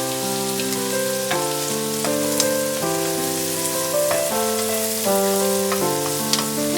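Chopped onion, ginger, garlic and clove frying in a pan with a steady close hiss and crackle, with a gentle piano-like melody playing alongside throughout.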